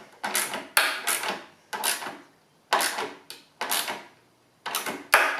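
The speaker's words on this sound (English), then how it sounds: "can hear it cracking and I've got a feeling it might be cracking the wood" A wooden dining table creaks and cracks under strain in a series of about ten sharp, close crackling bursts, each tailing off quickly, coming in irregular clusters.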